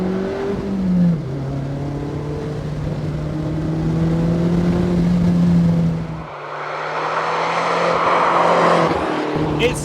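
A Vauxhall VX220 Turbo pulls hard through the gears, its engine rising in pitch, dropping at each shift and climbing again, loud and steady from inside the car with a brief lift-off before the last surge.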